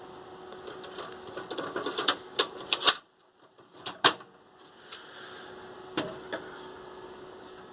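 The cover of an Oki C5950 printer is opened, giving a series of sharp plastic clacks and clicks in irregular bursts, with a brief quiet gap midway and a few more snaps afterward.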